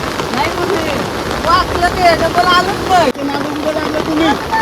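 Heavy rain over a flooded creek with boats, a constant broadband wash of downpour running throughout beneath nearby talking voices.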